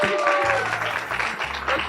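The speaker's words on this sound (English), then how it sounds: "Give her a round of applause." An audience at a youth bioeconomy workshop gives a volunteer a brief burst of applause, scattered clapping mixed with voices talking over it nearby.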